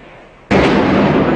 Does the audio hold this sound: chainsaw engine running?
no